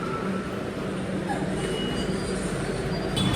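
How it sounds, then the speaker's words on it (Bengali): A metro train rolls into a station at night with a loud continuous rumble of wheels and a high squeal near the end, heard from the platform amid crowd murmur. "আমরা একদম এসে নেমেছি আর মেট্রোটা ঢুকলো।"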